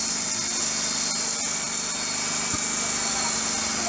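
A grain feed grinding machine runs with a steady, dense mechanical roar and high whine, constant and close throughout.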